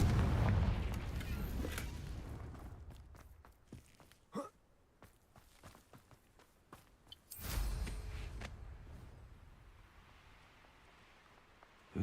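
Confringo blasting spell going off in the Hogwarts Legacy video game: a loud opening burst with a rumbling tail, then a second heavy blast midway, scattered sharp impacts between, no talking.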